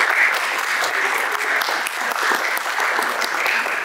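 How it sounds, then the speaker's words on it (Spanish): An audience at an automotive group's event for Ecuadorian Formula Student students gives a welcoming round of applause, steady dense clapping lasting a few seconds without a break. "lo recibimos con un fuerte aplauso"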